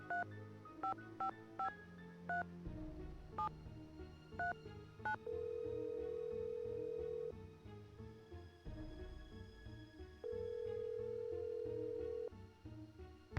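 Telephone call to the Drew residence in the Nancy Drew game: a rapid series of touch-tone dialing beeps, then two long ringback tones separated by a pause, over quiet background music.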